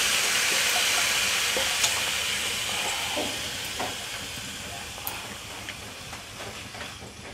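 Raw small fish and potato mixture poured into a hot wok, giving a steady hiss and sizzle that is loudest at first and slowly fades, with a few faint clinks.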